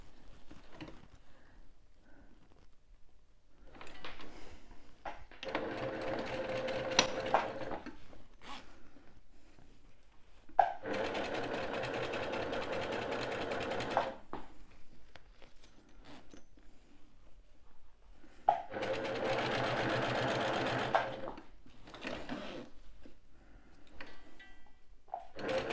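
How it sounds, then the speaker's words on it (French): A flatbed sewing machine stitching appliqués, running in several bursts of a few seconds each with a fast, even whirring patter, separated by quiet pauses and small handling clicks. "j'ai repris ma piqueuse plate parce que j'adore ce petit pied"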